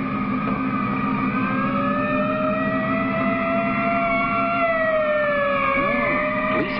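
A loud wailing ambulance siren sweeps up and down continuously, close and steady, with a low engine hum beneath it.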